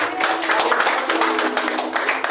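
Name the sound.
congregation clapping in church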